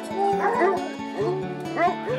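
A pack of hunting hounds, young dogs paired with an older one, barking and baying together in a dense, continuous chorus of overlapping howls and yelps, close and loud throughout.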